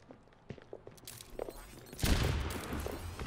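Gunshots ring out in a first-person shooter video game, a few scattered sharp cracks followed by a heavier, denser volley that carries on to the end.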